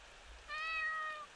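A cat meows once in the horror video game Ao Oni, a drawn-out, clear mew lasting about a second over a quiet background, with no one talking.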